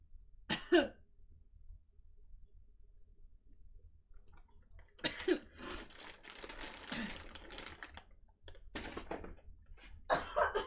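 Several dry coughs and throat clearing from a streamer with allergies, close to the mic indoors: a short burst near the start, then a longer cluster of coughs and clearing, with quiet keyboard-like tapping between.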